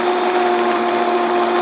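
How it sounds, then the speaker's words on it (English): A blender runs steadily on high, crushing ice for a vanilla milkshake, a loud continuous motor whine with gritty grinding throughout and no talk. "Now we're gonna put the lid on the blender. Make sure the blender's plugged in."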